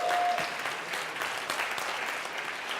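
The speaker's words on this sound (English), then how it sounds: "give them a round of applause" A round of applause from a live audience at a talk, fairly soft and distant, with a brief tone at the start, then an even wash of clapping that holds steady throughout.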